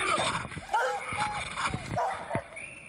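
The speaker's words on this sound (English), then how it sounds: "those dogs barking." A few short dog barks and yips in quick irregular succession, fairly close, over a busy background murmur of a cheering crowd at a downhill bike race in Valparaiso.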